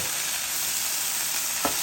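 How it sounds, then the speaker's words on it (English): A burger patty sears on a Blackstone 17-inch E-Series griddle, giving a steady, loud, close hiss of sizzling fat with one brief scrape near the end. "We're going to let that get a sear on this side."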